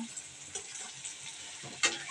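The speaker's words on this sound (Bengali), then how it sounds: "লবণ দেওয়ার পরে আমি একটু পানি অ্যাড করে দেব" Onions frying in a pan just after a splash of water and salt go in, giving a steady close hiss and sizzle with a couple of brief louder spits, no voices.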